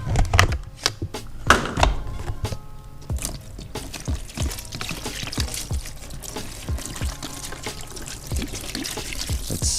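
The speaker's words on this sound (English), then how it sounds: "I put the wheel in, and I'm basically gonna soak it in some degreaser." Degreaser pours and trickles into a container where a bicycle wheel is set to soak, a steady close liquid stream with small splashes and clinks running throughout.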